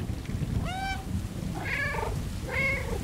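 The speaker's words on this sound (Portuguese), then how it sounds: "Ah, eu consigo miar, gente." A cat meows three times in the video game Stray: one clear rising-and-falling meow, then two fuller meows. They are close and distinct over a low background hum.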